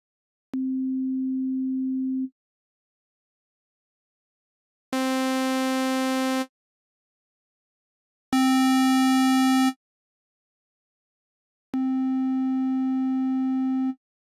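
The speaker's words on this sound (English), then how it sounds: "The sine wave is the only waveform that has no harmonics. It sounds pure, almost like an organ." Four sustained synthesizer tones at the same pitch play one after another with pauses between; the first is a pure, smooth sine tone, the later ones richer and buzzier.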